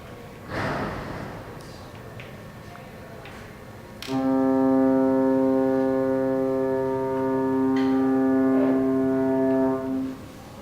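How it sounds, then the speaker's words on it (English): A deep, droning foghorn blares for about six seconds, loud and sustained, after a few breathy sounds and quiet noises at the start. "That foghorn, isn't it awful, Kathleen?"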